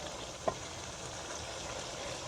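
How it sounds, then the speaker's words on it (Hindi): Onion, ginger and garlic masala sizzles steadily in a pan for black chickpeas, a faint, even frying hiss with one brief sharp pop near the start. "हम 10 मिनट इसे अच्छी तरह भुनाई करेंगे।"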